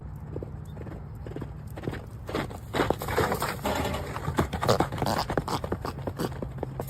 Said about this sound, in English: Have you ever seen a horse that's equipped with turbo?